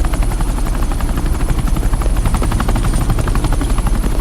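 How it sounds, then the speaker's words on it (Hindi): A helicopter in a film scene, heading to land on an airport tarmac, its rotor thumping loud and close in a rapid steady chop over a dense engine roar, with no talk. "ये हेलीकॉप्टर सीधे एयरपोर्ट के टारमैक पे लैंड होगा।"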